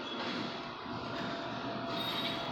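Model train rolling along its track past a mall-style layout, the cars swaying and wobbling in a conga-line motion, producing a steady close rumbling clatter with a faint high wheel squeal and no talk.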